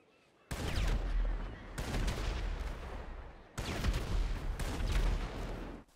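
An anti-aircraft trailer gun in GTA Online fires in long, loud, dense bursts, two sustained volleys separated by a brief pause, close and booming.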